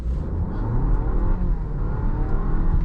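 A 2023 Volvo S60 Recharge Black Edition, a 455 hp plug-in hybrid with a rear-driven electric motor, accelerates hard with a loud, close, continuous rising drive and engine roar, alone with no talking.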